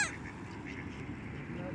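Geese and ducks, including grey and white birds, honking at a lake in Charleston, South Carolina while being fed bread; a dense, continuous chorus of calls from a flock nearby, with no speech.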